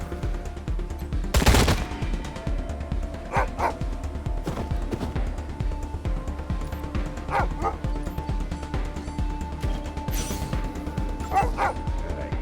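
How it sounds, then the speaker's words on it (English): Repeated dog barks in Wasteland 3 ring out in short pairs over dense game combat noise, with sharp gunfire bursts and a steady rumbling background throughout. "God, I hate the sound of barking so goddamn much."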